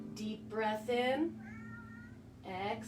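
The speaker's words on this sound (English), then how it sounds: "One of my cats is trying to come" A cat meows a few times in short, plaintive calls, with a steady low hum underneath and no talking.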